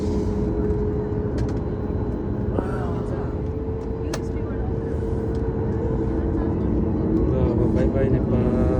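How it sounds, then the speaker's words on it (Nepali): A passenger airplane taxis before takeoff from Nepal, its engines producing a steady, droning hum from inside the cabin with faint muffled voices and small clicks. "अब चाहिँ हामी उड्न लाग्यौँ प्लेन घुमिरहेछ"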